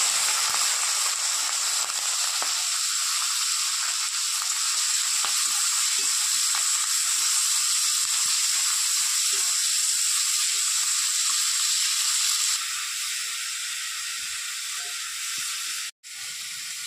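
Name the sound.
prawns frying in hot oil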